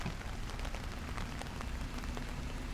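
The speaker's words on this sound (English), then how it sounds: "the rain is kind of going sideways" Heavy rain pours steadily during a thunderstorm in Miami, blown sideways by wind, a dense continuous wash of drops close by without pause.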